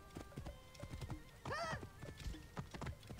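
A horse in Assassin's Creed Origins gives a clear whinny midway through a steady, close clip-clop of hooves trotting in the game world.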